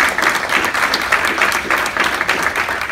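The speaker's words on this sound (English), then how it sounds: "Round of applause." A crowd gives a round of applause at a Westchester green business certification event: dense, continuous clapping with no voices, loud and steady for its whole length.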